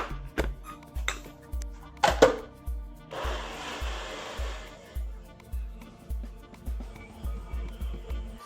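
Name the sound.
blender blending cashews and silken tofu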